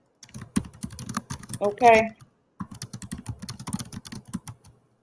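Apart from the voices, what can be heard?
typing on a computer keyboard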